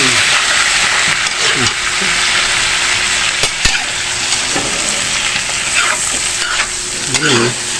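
Shrimp sizzle loudly in a pan of butter and garlic, a steady close-up frying hiss with occasional stirring scrapes and soft pops throughout.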